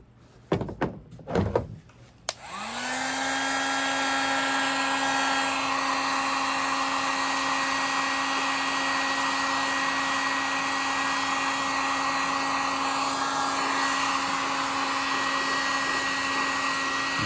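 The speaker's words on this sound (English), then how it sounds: "we take a heat gun and you'll heat it and it'll start melting and soaking into the material" A few thumps and clatters come first, then a heat gun switches on and whines at a steady, loud, constant drone while it melts wax into a Filson bush hat.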